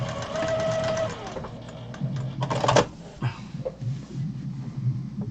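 Eyelet lace is stitched onto a quilt on a sewing machine, with rapid mechanical stitching in short uneven bursts and pauses, close and fairly loud, plus a few clicks and handling knocks.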